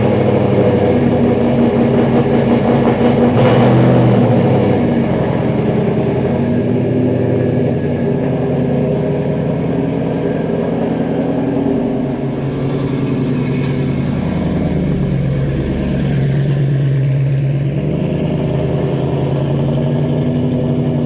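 A 1967 Fastback restomod with a modern Coyote engine drives along, its engine droning loudly and steadily from inside the car with road rumble, the pitch shifting gradually over the stretch.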